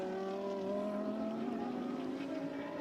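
A GT3 race car runs on the track at Circuit Paul Ricard, its engine a steady, fairly faint tonal whine that climbs gradually in pitch as it accelerates, heard alone without talk.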